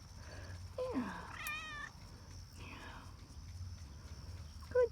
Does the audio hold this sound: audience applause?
no